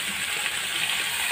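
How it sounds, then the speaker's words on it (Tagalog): Leftover menudo reheats in a pot, giving a steady close sizzling hiss with faint bubbling and no voices. "initin natin yung tirang menudo kagabi ay kahapon"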